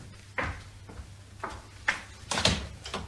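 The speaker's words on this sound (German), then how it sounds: "das soll Sie nicht abhalten, die Tür aufzumachen" A door is opened in a German crime radio play: a few quiet, sharp clacks and thuds spaced about half a second apart, heard alone against low background hum.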